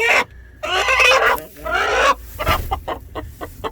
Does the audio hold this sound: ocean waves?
no